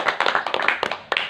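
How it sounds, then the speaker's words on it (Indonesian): A classroom of students applauds a classmate, a short burst of scattered hand claps close by that swells and thins over about a second and a half, with no talking. "berikan aplaus dulu kepada teman kalian."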